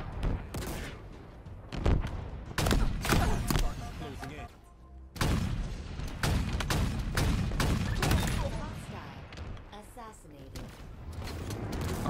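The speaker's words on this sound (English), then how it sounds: "I wasted a lot of shots right there." Bursts of rapid video game gunfire crack out in clustered volleys with short pauses between them, loud and close, while a player talks over the shooting.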